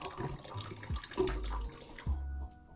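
Tap water running briefly onto a toothbrush loaded with toothpaste at a bathroom sink, short splashy bursts of flow that stop and start, close and moderately loud.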